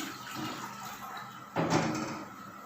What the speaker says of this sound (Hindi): जी मैंने एक पैन ले लिया, इसमें मैं डालती हूँ 2 कप पानी।